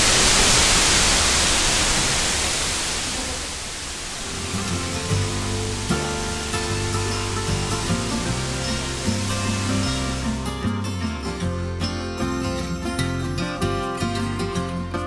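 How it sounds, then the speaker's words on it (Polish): A loud waterfall at a zoo roars as a steady, hissing wash of falling water, close and constant; partway through, music fades in and plays over the rushing water. "jest głośno, bo leci taki piękny wodospad"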